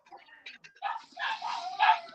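Poodles howl and whimper from another room, muffled and moderately loud. High wavering yips and howls come in broken bursts, growing longer toward the end.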